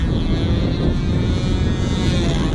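A big SV11 control line model airplane with a 60 size engine in flight, a loud, continuous droning buzz mixed with wind rush that holds steady without a break.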